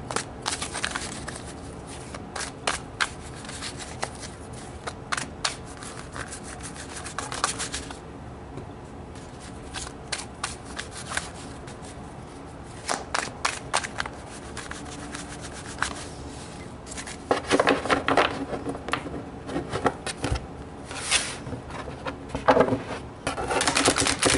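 Tarot cards are shuffled in repeated bursts of riffling and rubbing, close and fairly quiet, with short pauses between rounds.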